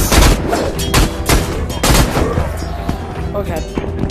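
Rapid gunfire from the VR combat game Battle Talent rings out in bursts of sharp shots, some in quick strings like automatic fire, loud and close throughout.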